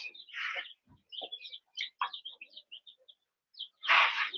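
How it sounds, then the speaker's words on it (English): Several bird chirps and short tweets in a quick, irregular series, fairly close and clear, with a louder burst of calls near the end. "Finally found some birds in town"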